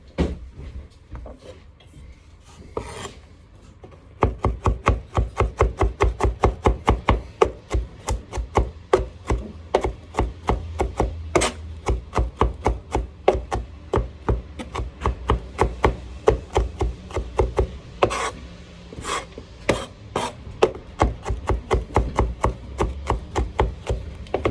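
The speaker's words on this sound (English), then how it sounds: "just chop the garlic into small pieces" A knife chops garlic into small pieces on a board, a long run of quick, sharp, evenly paced taps, close and loud after a few slower strokes at the start.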